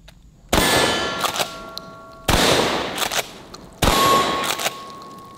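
Three loud shots from a Benelli Supernova shotgun each send a bright ringing clang off new steel targets, spaced about a second and a half apart, with smaller metallic pings after each blast and no talking.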